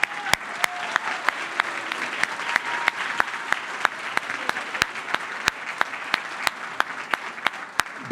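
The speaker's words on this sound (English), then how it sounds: "So let's have a big round of applause for our host." Audience applause for the host at a congressional candidate forum, a sustained wash of clapping from a hall crowd with sharp nearby claps popping out regularly, loud and steady.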